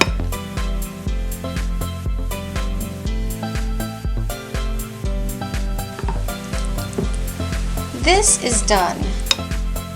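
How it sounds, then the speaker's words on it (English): Ecuadorian-style salsa with added cilantro is stirred and mixed steadily over loud, rhythmic background music, and a voice speaks briefly near the end. "Just give it a good mix."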